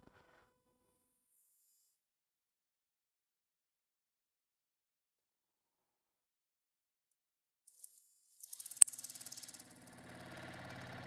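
A sewing machine stitches a quilt test swatch while prone to skipping stitches. After long silence, a short burst of rapid mechanical stitching clatters up close, then settles into a steady whirring run.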